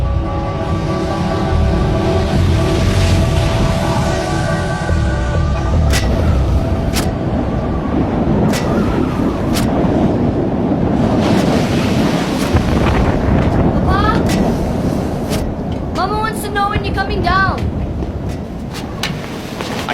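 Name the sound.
Krakatoa volcano eruption explosions booming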